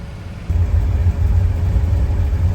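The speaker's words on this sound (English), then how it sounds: "I am shifting the car manually because the governor shifts way too fast" A Chevelle's engine rumbles close up while the car is shifted manually, a loud, deep, steady low drone that jumps in level after a brief quieter start, with no voices.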